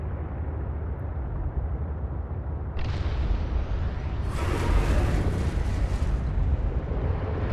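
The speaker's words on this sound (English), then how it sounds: "I know the explosion's always been there. And you can hear the afterburner." Subnautica Below Zero explosion followed by an afterburner, a steady low rumble that steps up into a louder roaring blast, then a bright hissing surge that tails off, with no talking.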